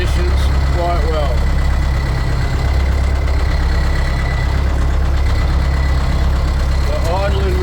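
A boat engine idles with a steady low rumble throughout, with voices talking faintly over it.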